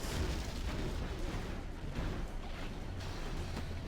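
A Helix helicopter is shot down in the video game C&C Zero Hour amid a dense rumbling battle roar, with muffled blasts and bursts layered over a continuous low din.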